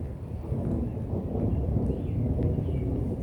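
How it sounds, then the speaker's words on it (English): Thunder during an outdoor rain thunderstorm, a deep continuous rumble rolling on for several seconds, loud and low, with a steady wash of rain and wind behind it. "The sound is getting bigger with the thunder."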